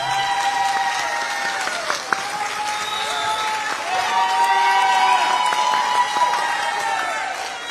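An audience applauds a middle and high school band at a spring concert, with sustained dense clapping and some cheering and voices mixed in throughout.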